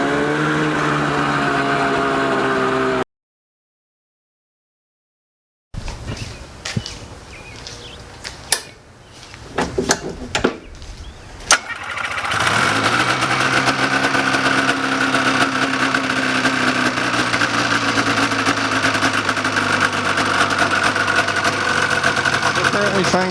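A go-kart fitted with a snowmobile engine runs close up, with a stretch of silence and a few sharp pops and bangs before settling into a loud, steady droning idle.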